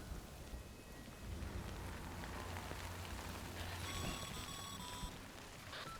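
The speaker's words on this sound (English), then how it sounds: "Raining." Steady rain falls in the video game Death Stranding, a constant broadband hiss of drops that holds evenly throughout, with faint tonal game sounds surfacing near the end.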